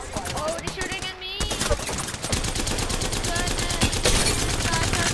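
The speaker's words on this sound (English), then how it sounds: "Oh, they're shooting at me." Gunfire rattles in an Apex Legends match, rapid automatic bursts of close shots running almost continuously, with a voice talking over part of it.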